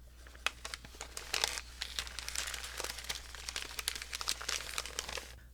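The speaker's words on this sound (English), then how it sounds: "Down here I have a field recording of some paper crinkle." Paper is crinkled and crumpled up close in a field recording. Irregular crisp crackles and rustling bursts run continuously over a low, steady background hum.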